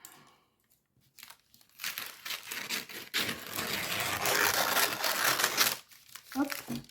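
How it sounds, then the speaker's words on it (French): Sheets of baking paper are cut and then crumpled close by, giving bursts of crinkling and tearing-like rustle while a steamed chicken dish is prepared. "Je vais me couper deux papiers,"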